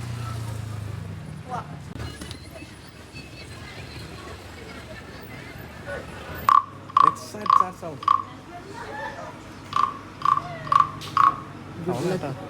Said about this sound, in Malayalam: അത് ശരിക്കും തവള കരയുന്നത് പോലെ തന്നെ ഉണ്ടായില്ല ആ സൗണ്ട് ഇങ്ങനെ കേൾപ്പിക്കുമ്പോൾ